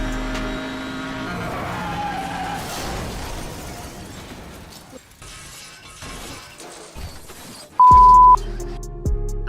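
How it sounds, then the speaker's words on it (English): Cars in Need for Speed Hot Pursuit skid and slide after bumping into traffic, with loud engine roar, screeching tires and crunching impacts, ending in a sustained horn-like blare. "When a player bumps into AI traffic, they slide across the road in some exaggerated fashion"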